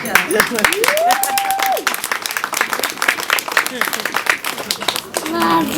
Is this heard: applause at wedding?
yes